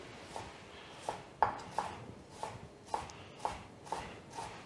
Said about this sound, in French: On va venir tout simplement couper.